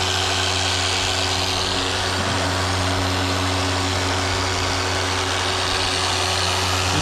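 Rotary sander wet sanding a car headlight lens, a steady continuous machine whir with low humming tones and broadband hiss, held at an even level throughout without any talk.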